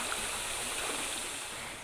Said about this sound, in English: This little lazy creek goes right downstream and goes underground into the Edwards and Trinity aquifers.